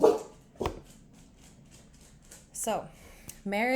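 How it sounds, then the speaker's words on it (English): A dog barks nearby in several sharp, separate yelps, with one short whimpering cry, all behind a person speaking at a lectern-like pace. "Sorry about my dog."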